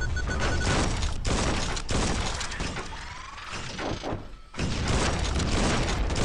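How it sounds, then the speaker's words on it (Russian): Shotgun blasts and explosions from the tank battle game Hills of Steel 2, loud and dense, with crashing, shattering bursts for most of the span and a brief lull before the blasts resume. "Это вот все этот дробовик вонючий"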